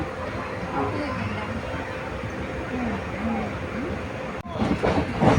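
A steady low rumble heard from inside the Ernakulam–Guruvayur Express as it runs into Punkunnam railway station, with faint rhythmic clatter and a louder jolt near the end.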